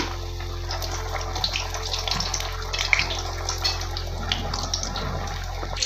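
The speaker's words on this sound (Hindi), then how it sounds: "अब इनको हम तेल में डालेंगे और हम इसे मीडियम फ्लेम पर पकाएंगे।" Banana basket chaat cups frying in hot oil over a medium flame, giving a steady, close, continuous sizzle with small crackles and no talking.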